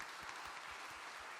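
Congregation clapping together in a church service to encourage the teachers, a short, dense, steady wash of applause that fills the room without talk.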